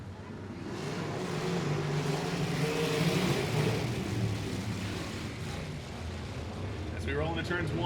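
Sprint cars racing at Paragon Speedway, a steady, distant engine roar across the field that swells slightly midway, with a commentator talking over it near the end.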